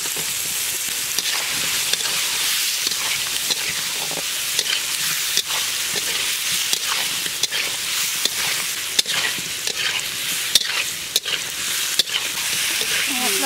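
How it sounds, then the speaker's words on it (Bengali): Soaked potatoes sautéing with spices in a pan for a potato curry: a loud, steady sizzle with repeated sharp clicks and scrapes of a spatula stirring against the pan. "মশলার সঙ্গে আলুগুলো কষা হয়ে গেছে"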